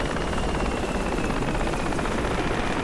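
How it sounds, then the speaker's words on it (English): A helicopter lands nearby in a military video game featuring armored vehicles, its steady rotor thump and engine roar continuous and loud throughout with no talk. "And a chopper landed on Oxford."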